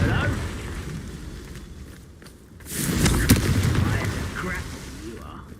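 In Hogwarts Legacy, a Confringo explosive spell goes off as a loud, close blast that swells into a sustained, roaring rumble, with dense game sound and voices around it.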